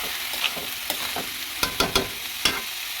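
Rice and lentils frying in mustard oil for khichuri, a close hiss of sizzling with several sharp scraping stir strokes of a spoon against the pot, fairly loud and without speech.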